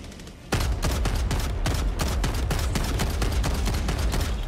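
An auto cannon in a video game opens fire abruptly and keeps going in a fast, regular stream of heavy thumping shots, loud and close for several seconds.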